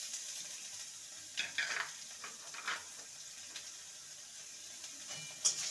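Spice tempering stirred in hot oil in a pan for evening tea snack fritters, a steady quiet sizzle with scattered scraping stir strokes and one sharper clink near the end, no talk.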